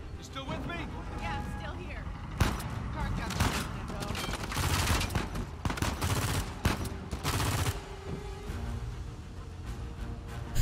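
Rapid gunfire and fusillade bursts from a firefight in the video game Uncharted 4, loud and close, with repeated shots and volleys running throughout alongside other game sounds.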